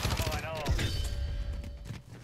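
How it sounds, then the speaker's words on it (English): Static-HV automatic gun in a first-person shooter firing a fast burst at over 800 rounds a minute, close and sharp, with the strafing continuing as shots blur together under a brief voice. "Now it puts out bullets pretty quickly. At over 800 rounds a minute."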